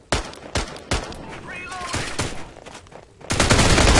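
Gunfire in the shooter game Final Bullet: sharp, loud single shots spaced apart, then a denser sustained burst of rapid fire at the end, with a voice under parts of it.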